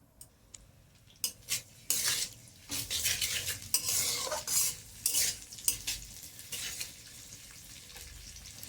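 Onion and chilli tempering hitting hot oil in a pan, a loud burst of sizzling that swells and then settles, mixed with clattering metal spoon strokes against the cookware.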